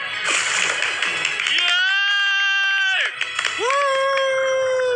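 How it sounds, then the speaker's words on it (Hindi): Someone swimming in a pool kicks up bursts of close splashing, broken by a stretch of high, whistly tonal squeals before the splashing resumes. "नोलन शॉट में आने के लिए बैकग्राउंड में तैर रहा है।"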